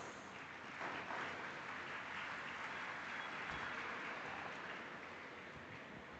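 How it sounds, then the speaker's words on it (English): Audience applause welcoming the Governor of Maharashtra at a student induction programme: steady, fairly faint clapping spread evenly across the whole stretch, without voices over it. "with a huge round of applause"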